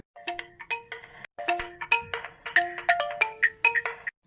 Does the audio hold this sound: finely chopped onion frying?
no